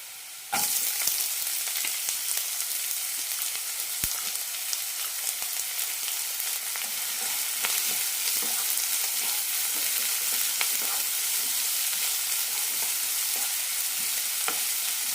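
Chopped onions fry in a hot pan for a chicken cabbage stir fry, a steady bright sizzle that starts abruptly and continues evenly at close range, with occasional small pops and scrapes.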